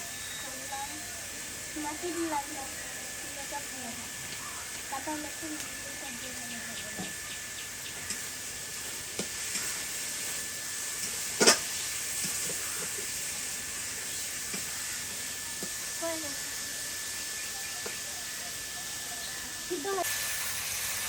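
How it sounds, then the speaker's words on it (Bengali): A steady sizzling hiss of chicken frying in oil continues throughout, with a person talking quietly over it and a sharp clatter midway. "চিকেনটা হয়েছে ভাজা হয়ে গেছে"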